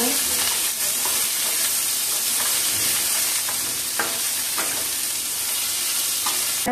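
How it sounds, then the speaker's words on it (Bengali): Garlic, cumin and onion frying in a pan, a loud continuous sizzle with periodic spatula scrapes and clinks as the mix is stirred, no speech. "জিরেটা দিয়ে দিচ্ছি, পেঁয়াজটা দিয়ে দিচ্ছি। এটা একটু ভেজে নেব"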